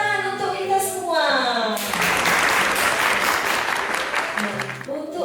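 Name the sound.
audience applause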